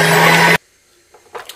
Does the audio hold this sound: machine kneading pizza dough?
yes